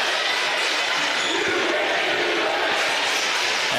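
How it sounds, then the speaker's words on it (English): Fans at a varsity volleyball game between Valley City and Wahpeton chant and roar loudly in a packed gym, a dense, continuous crowd noise with bursts of shouting throughout. "As the crowd starts to chant, "You can't do that.""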